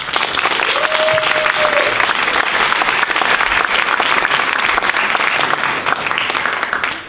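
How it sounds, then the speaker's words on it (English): A full audience round of applause at the Poetry Out Loud Ohio regional poetry recitation competition. Dense, steady clapping fills all seven seconds at an even, loud level and tails off only at the very end. "Let's give one more round of applause"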